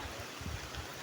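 Steady rain falls on a road, a continuous wash of hiss and patter at moderate level, with a faint low rumble underneath and no talking.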